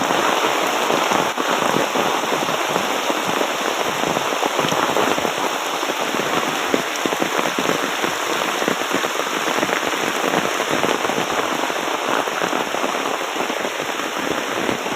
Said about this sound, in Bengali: এই বছরের সবচেয়ে বড় বৃষ্টি আজকের এই বৃষ্টি